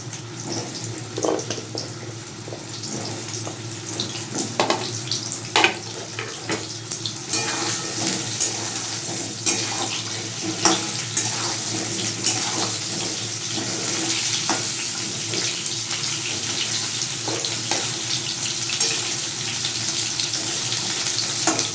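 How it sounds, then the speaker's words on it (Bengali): Pointed gourd frying in refined oil in a pan, a steady hiss and crackle with scattered sharp pops and occasional utensil clicks running the whole time. "আমি এটা রিফাইন তেলে করব। প্রথমে আমি পটলটাকে ভেজে নেব।"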